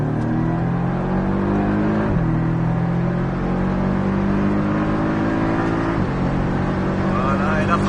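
A Porsche Cayman engine on a race circuit roars loudly and climbs in pitch as it accelerates at full throttle, dropping briefly at gear shifts, with people talking over it.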